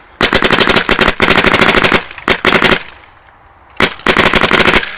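Paintball marker fitted with a Ramrod barrel firing in loud, rapid bursts of sharp pops, with a brief pause between volleys before another quick string of shots.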